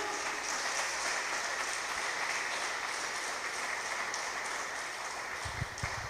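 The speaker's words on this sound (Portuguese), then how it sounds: "vamos aplaudir o Senhor" A congregation at a church workers' service applauds, giving a faint, even wash of clapping throughout with no clear voices.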